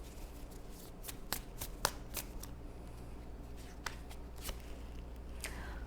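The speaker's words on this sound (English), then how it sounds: "let me go ahead and start pulling some clarifying cards." Tarot cards being shuffled and pulled from a deck: a run of quick, crisp riffling snaps and flicks, some louder than others, close and fairly quiet over a low steady room hum.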